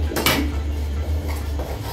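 Rice flour stirred into hot water in a pot in a home kitchen, with a sharp metallic clink of utensil against pot followed by softer scraping over a low steady hum.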